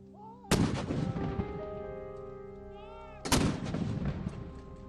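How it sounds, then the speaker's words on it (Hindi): A ceremonial cannon salute is fired to honour Prince Philip after his death. Two loud, heavy booms land about three seconds apart, each followed by a long rolling outdoor echo. "तोपों की सलामी के साथ ही ब्रिटेन में 8 दिनों तक चलने वाले राष्ट्रीय शोक की शुरुआत हुई।"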